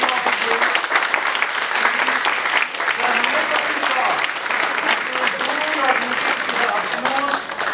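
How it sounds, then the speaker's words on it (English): Sustained applause from an audience at an investiture ceremony welcoming new officers, dense steady clapping from many hands filling the whole stretch, with a few voices mixed in. "let's give the huge round of applause to the new officers"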